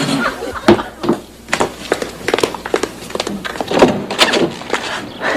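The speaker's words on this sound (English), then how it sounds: "Get the door, Rose." A door opens on a sitcom set, marked by a cluster of sharp wooden knocks and thumps with shuffling movement, while voices murmur faintly in the background.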